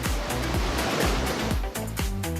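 Ocean waves surge in the Roblox video game, a broad hissing wash with repeated swelling pulses of water, steady and fairly loud, with no talk.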